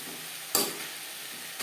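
Khesari greens sizzle dry in a pan, a soft steady frying hiss with one sharp stirring scrape partway through and another faint one at the end.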